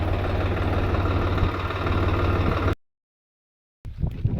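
A steady, low tractor engine idle rumbles close by in a farm field for a few seconds, then cuts out into silence before a brief clatter of other noises.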